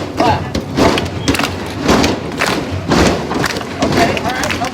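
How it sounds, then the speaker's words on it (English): Large crowd at a Universal Studios Water World show stomping and clapping along in a repeating rhythm, loud heavy thuds in regular bursts roughly once a second with crowd noise between. "copy this pattern. Stomp, clap,"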